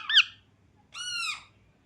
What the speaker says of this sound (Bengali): বুলবুল পাখি।